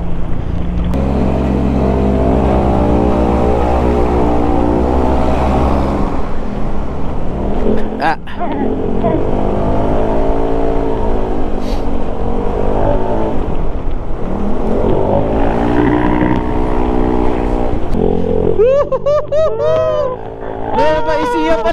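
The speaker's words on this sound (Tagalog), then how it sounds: "Grabe mga truck dito." Trucks rumbling past on a cold, foggy road in Nueva Ecija, heard from a moving Honda ADV160 scooter, with loud, sustained engine drone and rising and falling pitch as each one goes by; a rider speaks at times.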